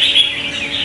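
Short bright chirpy call of a red-whiskered bulbul, a trapped wild bird offered for sale, sounding close and fairly loud against a steady background hiss, with no talking.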